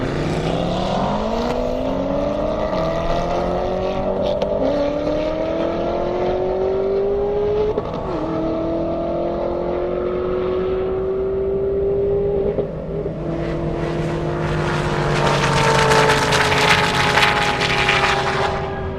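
An Audi RS6 accelerates hard down a half-mile airport drag strip at the Indy Airstrip Attack, its engine note climbing through gear changes in long rising sweeps, loud and continuous, ending in a broad roaring rush.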